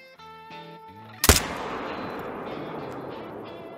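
A single loud hunting-rifle shot in theHunter: Call of the Wild, fired at a side-striped jackal on the Vurhonga Savanna, with a sharp crack followed by a long rolling echo that fades slowly, after a tonal game sound.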